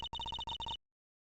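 A telephone rings in the Ace Attorney Investigations 2 video game, with rapid electronic trilling pulses in several quick bursts that cut off abruptly and leave silence.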